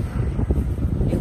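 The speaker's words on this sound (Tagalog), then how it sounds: "Diyos ko po, pagkalakas-lakas ng hangin." Strong wind buffets the microphone at the Twin Falls canyon near Challis, Idaho, a loud continuous low roar with gusty swells throughout.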